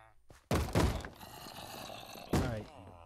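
Zombies pounding on doors in Minecraft, heavy close thuds and a crunching bang at the start, then a second loud knock after a pause, with game ambience between.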